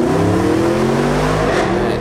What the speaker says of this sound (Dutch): Dit is gewoon echt een lekkere V8.